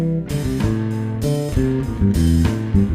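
Bass guitar working through minor and major pentatonic lines over a blues, steady plucked notes in a continuous phrase, close and fairly loud with no voices.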